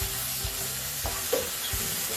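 Shrimp paste (belacan) sizzles in a pan with a soft, steady hiss and a couple of brief stirring scrapes, heard alone and close.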